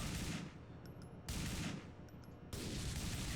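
Bursts of gunfire in GTA IV with a Back to the Future mod, three dense, loud volleys of rapid shots separated by brief lulls, with thin high metallic pings over the sustained noise.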